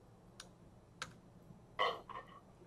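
Sparse keystrokes on a computer keyboard as a web address is typed, a few soft isolated clicks heard alone against a quiet room background.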